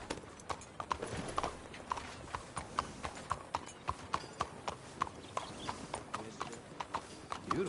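Steady clip-clopping of horse hooves in Red Dead Redemption 2 at an even walking rhythm, fairly close, with faint background ambience and no talking.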